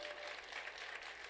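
Applause during a Sunday morning church service, a dense steady clatter of many hands clapping, faint and distant, with no voices standing out.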